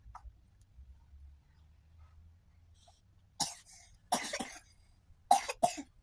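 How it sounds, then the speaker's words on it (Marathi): A few sharp coughs in quick bursts, close by, after a stretch of near silence with a low background hum. "खोकला येतोय म्हणून."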